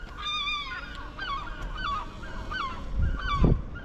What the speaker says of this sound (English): We are getting already harassed by seagulls.